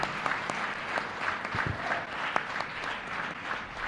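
An audience at a meditation gathering claps steadily in a dense, even patter with a few louder individual claps standing out, and faint voices are heard underneath.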